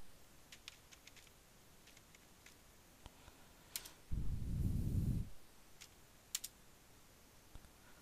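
Several light, scattered keystrokes on a computer keyboard enter a command in a quiet room, with a brief louder rustle or thump midway.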